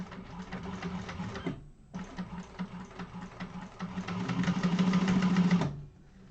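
A sewing machine stitches a Zynah bag close to the interfacing, running in a fast steady buzz, pausing briefly, then resuming and speeding up before stopping, close and clear with no talk.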